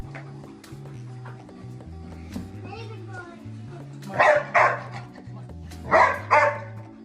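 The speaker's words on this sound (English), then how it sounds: "The security camera captured the moment of a dog protecting its owner." A dog protecting its owner, caught on a security camera, barks sharply in two close pairs of loud barks near the end, over a steady electronic tone and background voices.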